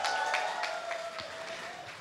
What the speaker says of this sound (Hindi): इसलिए आपके लिए एक बार जोरदार ताली होनी चाहिए।